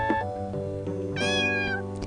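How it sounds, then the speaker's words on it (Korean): A baby kitten meows close up, with a short high mew at the start and a longer, bright, rising-then-falling meow about a second later, clear and alone. "귀여운 아기 고양이랍니다"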